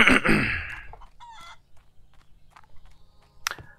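A chicken in the video game Barn Finder gives a loud, close burst of clucking squawks at the start, then scattered faint clucks and footstep-like taps, and another sharp squawk near the end.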